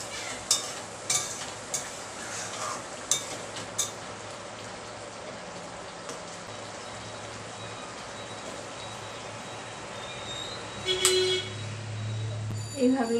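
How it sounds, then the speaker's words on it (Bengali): Aloo dum, a potato curry, simmering in a pan, a soft steady bubbling hiss with a few clinks of utensils, while a voice talks over it. "এবার এটা একটু ফুটতে দিচ্ছি"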